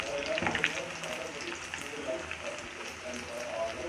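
Chicken pieces frying in a pan for chicken pickle, a faint steady crackle and hiss with a spoon stirring now and then, close but quiet, with a voice talking faintly over it.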